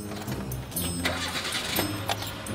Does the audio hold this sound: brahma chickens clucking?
no